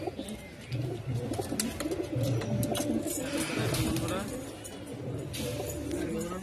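Pigeons at a pigeon market or seller's loft coo repeatedly in low, rolling bursts close by, with birds shuffling and people talking underneath throughout.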